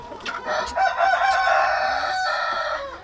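Turkey hens and other poultry in a Ukrainian village yard call out in loud, close, overlapping squawks and crowing-like cries that persist through the moment.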